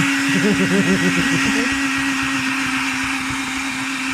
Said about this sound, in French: C'est quoi ton batteur il date des années 20?